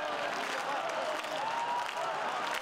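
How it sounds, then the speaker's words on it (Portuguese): Football supporters of Verdão roaring and cheering in a stadium after an equalising goal in a women's match against Iranduba, a dense, steady wall of crowd noise with clapping throughout. "E a torcida do Verdão foi ao delírio na arena."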